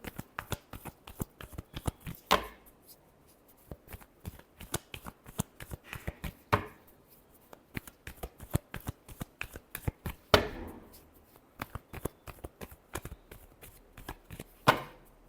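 A deck of cards is shuffled over and over, with rapid riffling bursts and sharp taps as the cards are squared, close and fairly quiet with no talking.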